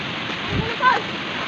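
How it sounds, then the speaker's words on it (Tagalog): Taybungan Falls pours in a constant loud rushing wash of water, with brief voices talking over it. "ang ganda ng falls. Lakas ng agos."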